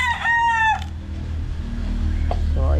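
A fighting rooster being readied and bathed for a pre-conditioning match crows loudly and nearby, then gives a shorter call near the end over a low background rumble.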